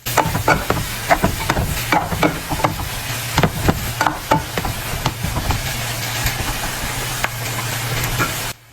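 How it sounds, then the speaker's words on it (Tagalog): Sugar is stirred through a tender vegetable egg roll filling in a hot pan, with a steady sizzle and repeated soft scraping clicks of the spoon throughout. "Be sure to mix properly so the sugar will get incorporated with the mixture."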